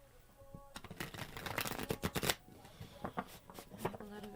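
A deck of Light Series tarot cards is shuffled by hand in a quiet room, a run of crisp riffling bursts and soft card slaps, close and clear, with faint background voice.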